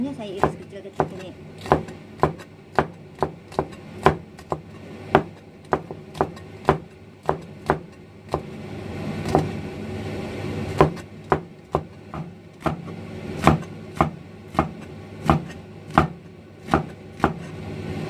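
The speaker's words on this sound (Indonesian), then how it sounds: "Sekarang iris buncisnya, habis ini goreng itu ya." Green beans are sliced into small pieces with a knife on a board in a restaurant kitchen, making a long run of sharp, close, rhythmic chopping knocks with brief pauses, under some background talk.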